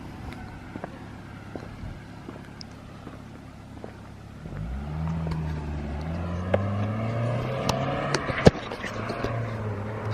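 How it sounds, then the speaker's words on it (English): Cars pull away on a road, engines rising from a low idle rumble into a louder accelerating roar with climbing pitch, passing near with wind noise and occasional sharp knocks. "So there was Zach and Christian taking off for the driving portion of their one take"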